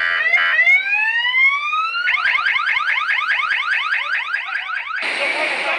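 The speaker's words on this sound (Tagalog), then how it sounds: "pinaharap nila ang SUV na ito na may blinker at sirena." An SUV fitted with a siren and blinker sounds a loud, close electronic siren: a rising wail for about two seconds, then a rapid warbling yelp repeating steadily, ending in a short burst of harsh buzzing tone.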